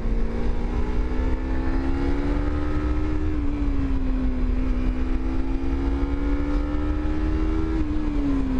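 A Kawasaki Z300 motorcycle engine held high near its 13,000 rpm limiter, a loud, steady, close buzzing whine that wavers slightly and dips briefly twice.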